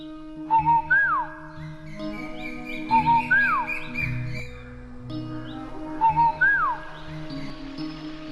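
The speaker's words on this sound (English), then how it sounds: "there lived in China a little nightingale who sang beautifully" A songbird, a nightingale, singing in repeated clear whistled phrases with rising and falling notes, each phrase returning about every three seconds over a tonal musical backing, fairly loud and close.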